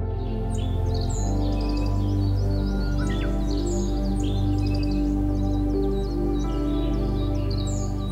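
Tropical forest birds of Central and South America call in a busy chorus of chirps and short whistles over a steady low tonal drone.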